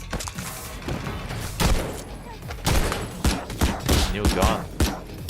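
M1 Garand rifle shots in a video game, loud sharp cracks fired in an uneven string with booming thuds between them, some overlapping in bursts.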